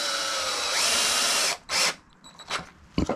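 A cordless power drill drives 3-inch wood screws into timber for a storage rack, a loud sustained whine for about a second and a half, then short bursts as the screw seats.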